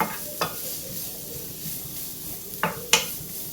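Chopped onion being sautéed in a pan for Kerala-style prawn puttu: a low, steady sizzle broken by a few sharp scrapes and knocks of a spoon stirring against the pan.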